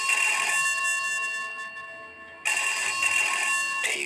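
An electronic ring tone sounds in bursts, a steady tonal trill that pauses, then resumes loudly, like a telephone ringing nearby.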